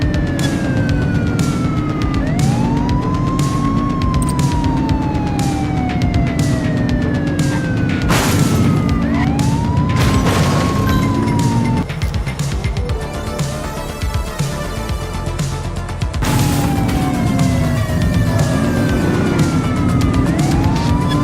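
Police car siren in The Precinct during a vehicle pursuit, loud repeated wailing sweeps rising and falling over traffic and engine noise, with a few thumps and a stretch where the siren briefly changes pattern.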